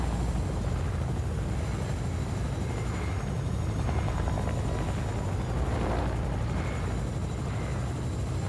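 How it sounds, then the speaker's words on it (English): A helicopter in the Fortnite video game drones steadily and loudly throughout, a dense continuous rotor and engine roar with no speech. "Choppers can be really loud."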